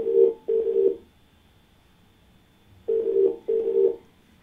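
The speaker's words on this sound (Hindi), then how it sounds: "बात करते हैं अपने अगले कॉलर से, देवेंद्र जी से" A telephone line rings as a call connects to a viewer on a Hindi TV call-in show, giving two paired electronic ring bursts, then a pause, then two more, loud and clear.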